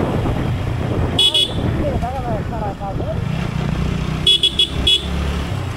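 A motorcycle rides along a rural road through forest, its engine droning steadily beneath a voice, with several short horn toots, one early and a quick cluster near the end.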